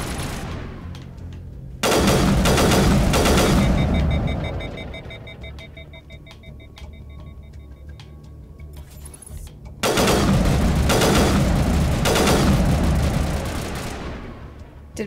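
Automatic gunfire in the Mass Effect Legendary Edition video game: two long, loud bursts of rapid shots, each lasting a couple of seconds, separated by a quieter stretch of ringing electronic tones.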